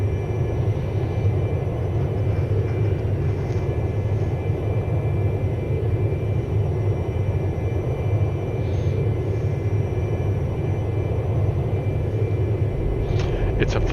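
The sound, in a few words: Citation II jet engine in video game X-Plane 11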